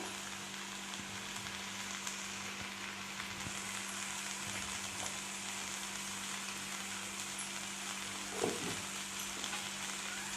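Broccoli sautés in a pan with turmeric and salt over low heat, giving a soft, continuous sizzle, with a brief stirring scrape near the end.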